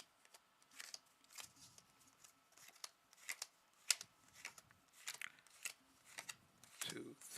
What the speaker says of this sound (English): And then we're going to deal out the cards again.